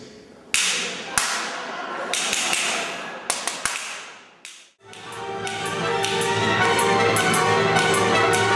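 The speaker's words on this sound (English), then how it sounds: "we have whips." Sharp whip cracks ring out in an orchestral symphony performance, about a dozen loud snaps scattered irregularly at first, then the full orchestra swells in.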